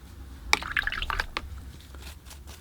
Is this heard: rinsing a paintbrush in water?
yes